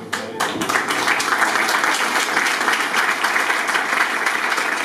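Audience in Monte Sant'Angelo breaking into sustained applause of thanks, a dense, even patter of many hands clapping that continues without a break.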